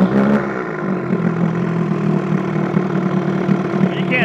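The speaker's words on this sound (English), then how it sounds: "This motor is so right, it's not funny. Dropping right down to an idle right away." A 1969 Johnson 20 hp outboard motor runs steadily at a low idle close by, a continuous mid-pitched engine drone holding even throughout with no talk over it.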